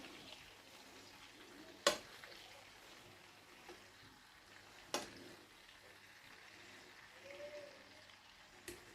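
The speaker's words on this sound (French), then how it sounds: "on va retourner notre viande." Ground meat sizzles softly in a pan while it is cooked for a breaded sandwich-bread sandwich, with a faint steady crackle and two sharp clacks of a utensil against the pan.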